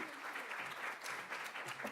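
An audience at a poverty and economic security forum claps for Congressman James Clyburn, a quiet, continuous wash of applause from across the room with a voice briefly heard.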